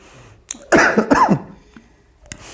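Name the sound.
cough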